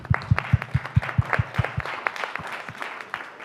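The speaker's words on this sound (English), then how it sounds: "Let's give him a round of applause." A policy-debate audience gives a short round of applause, opening with a run of about nine crisp, evenly timed heavy claps that loosen into lighter, scattered clapping as it dies down.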